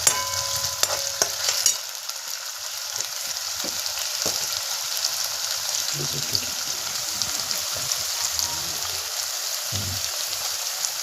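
Potatoes frying in oil on a wood-fired stove for sabudana khichdi, a constant crackling sizzle with a few stirring knocks near the start and scattered low thumps, close and steady.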